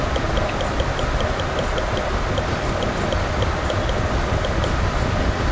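A train running in the Tiny Rails video game, a steady, dense rolling rumble with faint, evenly spaced high clicks ticking along in a regular rhythm, with no one talking.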